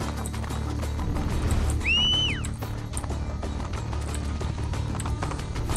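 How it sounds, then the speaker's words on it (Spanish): A horse in Assassin's Creed Brotherhood neighs loudly in the middle over a steady rumble of galloping hooves and background noise, the whinny rising and falling for about a second. "Yo quiero ir en mi caballo, así que vámonos en mi caballo."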